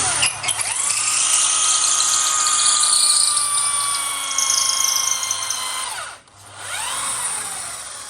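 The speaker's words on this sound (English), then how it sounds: "as it drills into the hardness of this horn, it changes the sound when it's going to punch through." A power drill bores through a hard kudu horn being made into a shofar, a loud sustained whine with shifting pitch that briefly cuts out near the end, then spins back up alone.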